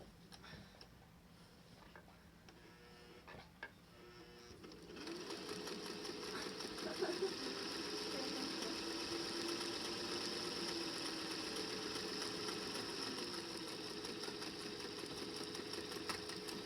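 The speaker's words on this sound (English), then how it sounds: "And now I'm going to top stitch the top side of my pocket." A sewing machine top-stitches the pocket of a fabric face mask. After a few quiet clicks and handling noises, the motor starts and runs as a steady close whirr with a fast needle patter, fairly soft overall.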